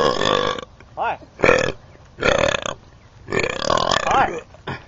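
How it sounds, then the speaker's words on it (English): A person burping loudly and close up, several drawn-out croaking belches in quick succession with short gaps between them. "I can't burp very good right now."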